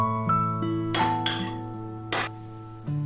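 Several light clinks and taps of metal against a bowl while mixing shrimp with cooking wine, scattered irregularly with quiet gaps between, close and fairly soft.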